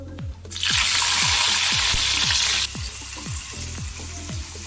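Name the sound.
onions frying in oil for curry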